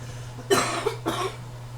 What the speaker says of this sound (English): Can't be coughing in the candy.